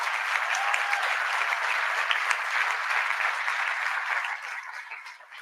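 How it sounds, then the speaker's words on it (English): An audience applauds at remarks on the infrastructure law in Kansas City, a broad, even wash of clapping that holds steady and then fades out toward the close. "Let's give them a round of applause as well."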